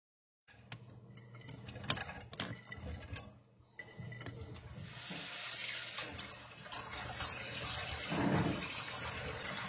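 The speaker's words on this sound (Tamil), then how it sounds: "தண்ணியில் நல்லா அலசி கழுவவும் பைத்தங்க." Tap water runs while green gram beans are rinsed and washed by hand, with splashing and clinking that start softly and then grow into a steady, fuller gush of running water close by.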